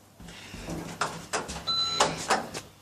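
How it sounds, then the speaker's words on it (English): A ThyssenKrupp machine-room-less lift door at a train station slides shut, giving a series of rattling mechanical clunks and rumbles with a short electronic tone midway, close and moderately loud. "Door closing."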